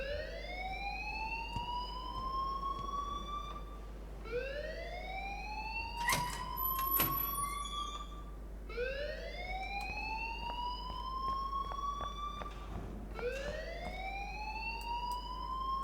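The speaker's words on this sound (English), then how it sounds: "please turn off that alarm since that's your job" A fire alarm rings in Life Is Strange, its rising electronic whoops repeating steadily about every four seconds, loud and continuous with no voices over it.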